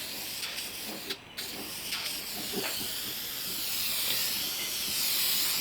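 A spray can coats an SR20DET valve cover with wrinkle paint, a close, continuous hiss that swells and steadies over several seconds, with a few short breaks early on and no talk.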